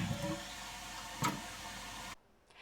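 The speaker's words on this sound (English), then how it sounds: "As you can see with this toilet flush, all solids and paper will flush the first time" A toilet fitted with a green water-restricting toilet saver flushes, giving a quiet, close rush of water with a brief gurgle before it cuts off abruptly.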